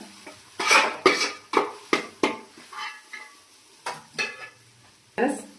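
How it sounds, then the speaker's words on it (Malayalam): A metal spoon stirs chili powder into chicken curry in a pan, making a series of distinct scraping clanks in an uneven rhythm with a faint sizzle between strokes, close and fairly loud. "പൊടി ചേർത്ത ശേഷം നന്നായി ഒന്ന് ഇളക്കുക"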